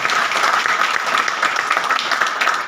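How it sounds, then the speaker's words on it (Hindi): Applause from an audience at a digital business event in Shahdol, Madhya Pradesh: a loud, dense, continuous wash of clapping that holds steady for almost three seconds with no talking. "तालियां होनी चाहिए।"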